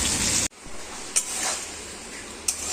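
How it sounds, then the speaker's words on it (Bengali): Steady hiss and crackle of bitter gourd and potatoes frying in hot oil, cut off briefly once, then resuming with a couple of light utensil taps. "এখানে আমি উচ্ছে আলু ভাজা করছি"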